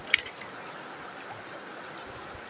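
A river's current rushes steadily past a riverbank in farmland, a continuous broadband wash of flowing water with no talk, after a brief splash at the start.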